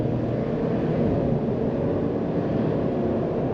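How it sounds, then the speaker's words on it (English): A 2022 Chevrolet Suburban LT with the 5.3L V8 and rear-wheel drive accelerates, heard from inside the cabin as a steady low engine drone with road rumble, smooth and unbroken, with no talking. "let's go ahead and give it a little bit of go here and check out the power of this engine."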